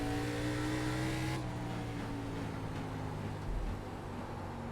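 An ARCA Menards Series race car engine in the iRacing simulator, a sustained droning roar with a shifting pitch that drops and flattens partway through, steady and fairly quiet with no speech.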